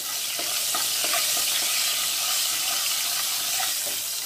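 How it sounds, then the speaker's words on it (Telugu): Fenugreek seeds and turmeric frying in hot oil in a pan, a loud, continuous crackling sizzle with faint scraping stirs running throughout. "ఈ మాత్రం మెంతులు, కొంచెం పసుపు వేసుకొని వేయించుకోవాలండి."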